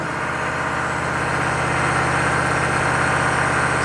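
Chevy 6.5 turbo diesel engine given a light touch of throttle while parked, a steady loud rumble with a slight rise in revs, running continuously with no talk.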